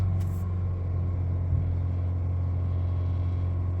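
A Honda HR-V engine held at 3000 RPM during servicing, a steady, even hum with a strong low drone that stays constant and close throughout.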